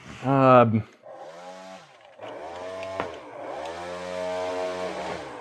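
A small DIY RC airboat motor and propeller buzz and rev with a high, fluctuating whine, rising and dipping in pitch, while a person talks at times.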